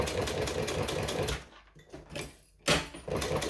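Sewing machine stitching a fabric strap, a steady close mechanical whir that runs continuously, briefly drops away, then starts again near the end, with no talking.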